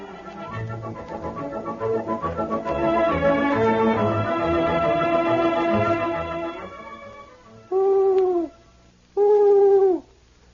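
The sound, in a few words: owl hooting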